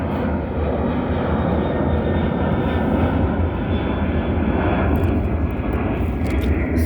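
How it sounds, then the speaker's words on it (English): A fixed-wing airplane passes overhead, its engine a loud, steady broadband roar that holds throughout and swells slightly toward the end, with no voices over it. "airplane fly over, y'all."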